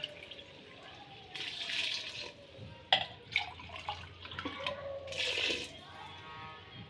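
Water, one and a half glasses, poured into a mutton karahi cooking with tomatoes, red chilli and turmeric; splashing bursts and a running trickle come in uneven spurts, close by and fairly quiet.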